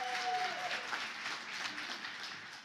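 Awards ceremony audience, at the Champions of Healthcare Awards, applauds with a steady wash of clapping throughout, moderately loud and slowly fading, after a brief tone at the start.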